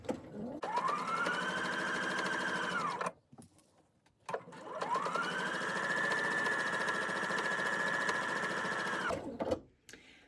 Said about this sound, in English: Now I am using a 1/4 inch seam allowance and I'm going to sew around all 4 corners.